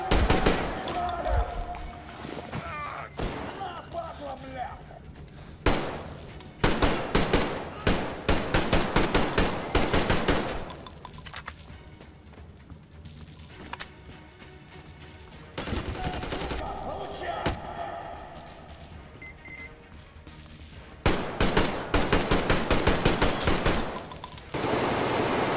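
Gunfire in Metro Exodus comes in rapid automatic bursts and single loud shots. The bursts arrive in clusters separated by short lulls, close and harsh, with faint talk underneath in places.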